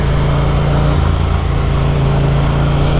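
A Yamaha MT-07 demo motorcycle's engine running up close, a loud, steady droning hum that holds without a break.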